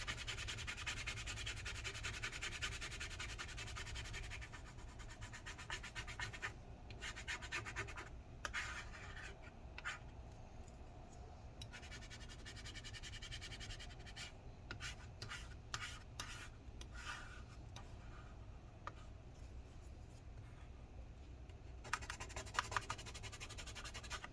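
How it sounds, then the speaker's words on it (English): Adhesive being scraped off the inside of a 2012 15-inch Retina MacBook Pro makes faint, close, irregular scratching and rubbing strokes in short bursts against a quiet background. "Let's see all that adhesive gunk coming out."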